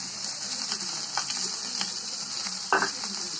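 Steady sizzling of chopped carrot and cabbage frying in a pan, with soft scraping and stirring clicks and one louder clatter near the end.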